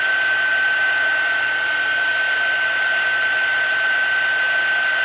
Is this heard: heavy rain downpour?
no